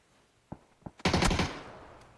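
Gunfire in a battle royale video game: two single shots, then a dense burst of rapid automatic fire that decays over about a second, loud and close with no talk.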